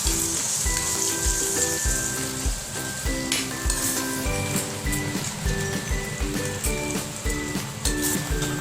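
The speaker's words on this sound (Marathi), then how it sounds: "आता आपण अद्रक लसणाची पेस्ट टाकून घेते एक चम्मच तर आपल्याला छान परतून घ्यायची आहे" Ginger garlic paste sizzles as it is sautéed in masala in a pan for a spicy jackfruit curry: a loud, continuous frying hiss with stirring scrapes throughout and faint steady tones in the background.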